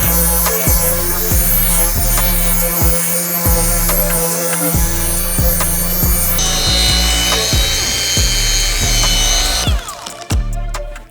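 A car polisher runs steadily with a droning whir for several seconds while applying wax, its tone shifting slightly, with some clicks and a sharp change near the end.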